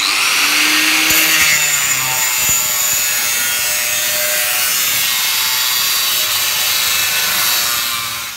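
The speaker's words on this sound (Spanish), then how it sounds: "Careta protectora de chispas y a cortar los rectangulares." A power tool cuts through rectangular metal tubing for hairpin table legs, throwing sparks: a loud, sustained abrasive grinding whine with tonal shifts early on, steady for several seconds and tapering slightly at the end, no talk.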